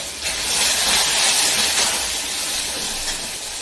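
Ridge gourd frying in hot oil with browned onion, giving a steady, loud broadband sizzle that holds evenly throughout with no voices.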